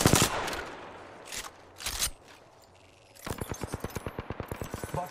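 Video game gunfire: loud single shots and short bursts at first, a quieter pause, then a long rapid string of evenly spaced automatic shots close by.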